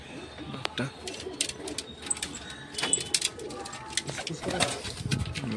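Madrasi pigeons let go from a loft give soft cooing and scattered wing flaps against busy background noise, while someone talks nearby at intervals.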